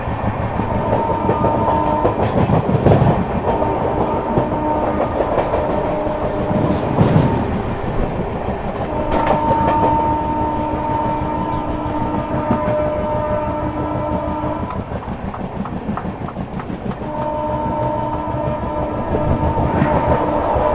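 Mau–Anand Vihar superfast express train running through Tundla Junction, a loud continuous rumble and clatter of wheels over rail joints with a sustained horn-like tone sounding in stretches, no voices.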